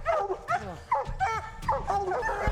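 A hunting dog yips, whimpers and barks in short excited bursts right after a bear hunt in Vermont, close and loud, with people talking over it.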